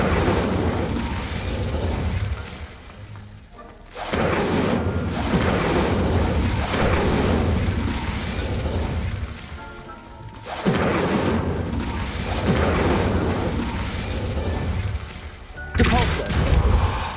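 Fire spell blasts from Hogwarts Legacy: loud, crashing bursts of flame roll out in repeated heavy waves, with brief dips between casts and a final sharp flare near the end.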